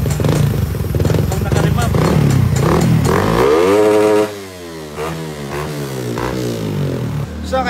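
A custom-built motorcycle from Mindanao, made by Dodong Works, revs loudly and up close, the engine rising in pitch and then dropping to a rough idle as people talk over it.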